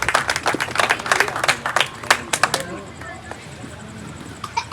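Audience at a pigeon-flying tournament prize ceremony clapping in welcome, a burst of sharp close handclaps that fades after a few seconds into background chatter.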